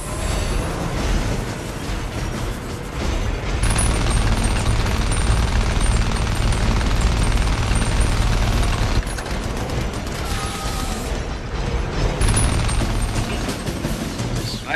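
Machine gun emplacement firing in the video game Trenched, long sustained bursts of rattling automatic fire mixed with mechanical clanks and distant booms, loud and nearly unbroken.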